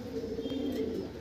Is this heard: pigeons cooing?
yes